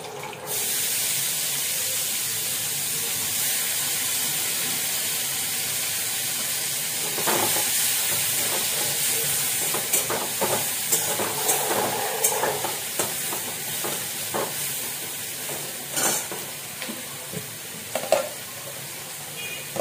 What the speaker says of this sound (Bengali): এইবার আমি এই তেলে পেঁয়াজটা ছেড়ে দেবো।